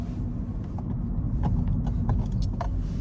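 A Chevrolet Spark drives toward a freeway on-ramp, with a constant low engine and road rumble and a few light clicks and rattles inside the cabin.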